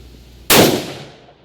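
A single loud rifle shot cracks out suddenly, its sharp broadband report striking a bottle target and then decaying over about a second outdoors.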